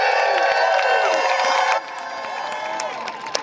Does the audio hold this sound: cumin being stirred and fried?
no